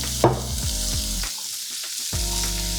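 Vegetables sizzle steadily in olive oil for a Cajun dirty spaghetti base, a loud continuous frying hiss with a few stirring knocks and a brief pause midway.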